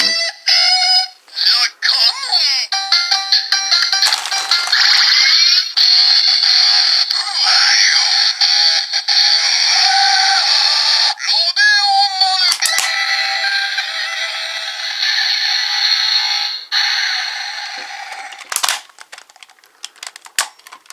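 Busy electronic sound effects from a Ninninger Ninja StarBurger henshin toy, chiming tones, whirs and beeping sweeps play continuously and loudly, with abrupt shifts between effects.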